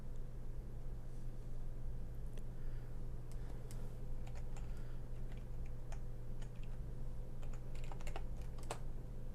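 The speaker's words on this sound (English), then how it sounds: "Alright, so I typed it in correctly" Keys clack on a computer keyboard as a password is typed, with irregular clusters of light taps over a steady low electrical hum, close and fairly quiet.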